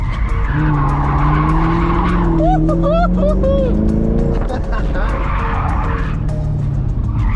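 A Chevrolet Camaro SS slides through an autocross course, its tires skidding in long, wavering squeals over a loud, steady engine roar from inside the car, with occupants whooping and talking.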